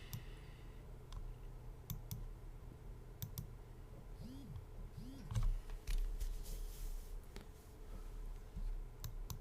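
Computer mouse clicks while sorting a stock list in charting software, a scattering of light separate clicks over a steady room hum, close and fairly quiet, with no talk.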